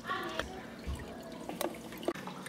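Nutrient solution, dry nutrients dissolved in water, poured into a hydroponic cilantro garden: close splashing and dripping liquid with a few sharp drips, and a voice speaking faintly.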